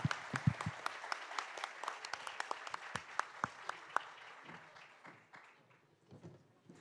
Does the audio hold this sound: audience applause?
yes